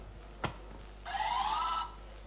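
A quiz buzzer at a team buzzer check during a college quiz event: a sharp click, then a steady electronic tone lasting under a second before cutting off, with no voices.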